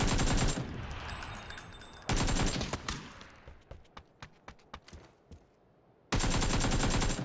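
AKM rifle gunfire in PUBG roars in loud bursts, with a sustained volley at the start, a run of separate sharp single shots in the middle, and a final dense burst. No talking.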